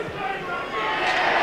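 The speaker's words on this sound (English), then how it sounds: "The crowd roar." A stadium crowd roars after a try in a 1986 rugby league Kangaroo tour match, the broad wash of cheering swelling louder in the second half as a commentator talks over it.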